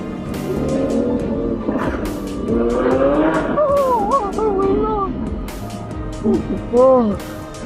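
A Lamborghini drives close by with a loud engine roar and wavering, squealing whines from the tyres, and voices may be mixed in.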